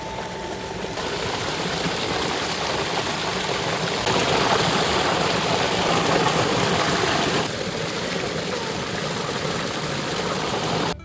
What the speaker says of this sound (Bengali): কাছেই জল ছুটছে